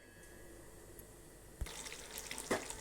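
Tamarind water is poured into a simmering mochai bean kuzhambu with drumstick. A quiet hum breaks into a sudden splash and then a gurgling pour with a couple of sharper splashes, close by and moderate in level.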